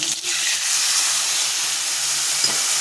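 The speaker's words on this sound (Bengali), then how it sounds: "এখানে আমি সাইডে তেল নিয়ে নিয়েছি গরম করে এখানে দেবো জিরে আর শুকনো লঙ্কা দিয়ে দেবো" Cumin seeds and dried red chilies fry in hot oil, giving a steady bright sizzle and hiss that runs throughout, with faint low clinks beneath.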